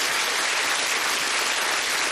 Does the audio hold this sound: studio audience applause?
yes